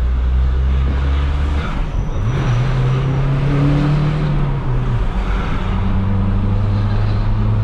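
A Volkswagen Amarok 2.0 with a tuned engine and straight-through exhaust accelerates hard, its loud, close, raspy engine note droning steadily and rising in pitch through the revs with no break.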